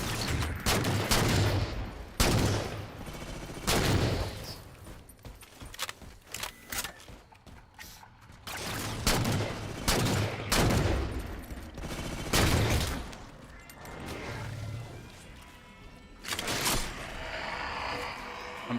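Weapon fire in Halo 4, repeated bursts of loud gunshots in uneven clusters with short gaps, close and punchy, with mechanical clanks between volleys and some talk at times.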